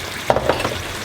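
Gnocchi tossed with Parmesan cheese in a pan, a brief close sizzle with a couple of quick scraping stirs, no voices.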